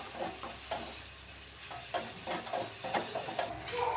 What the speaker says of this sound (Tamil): இப்போ நம்ம கொத்தமல்லி புதினா எடுத்துக்கலாம் எல்லாத்தையும் சேர்த்து நல்லா வணக்கிக்கலாம்